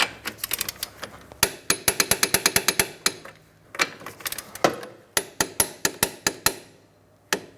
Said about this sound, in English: Let's go ahead and torque them to that 89 foot-pounds